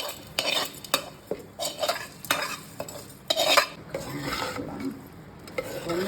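Tempering spices sizzle in a pan for curd rice as a spoon stirs and scrapes against the metal in repeated sharp clinks over a continuous frying hiss.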